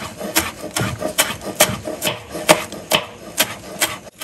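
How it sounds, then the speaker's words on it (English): Quick rhythmic knife chops through cilantro on a cutting board, about two per second, crisp and close, with no talking. "chop it up really finely"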